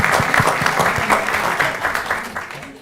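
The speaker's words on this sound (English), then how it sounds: "Let's give them a round of applause." A council meeting audience claps for local community workers, a close, lively burst of applause with distinct individual claps that gradually thins out, with a few voices mixed in.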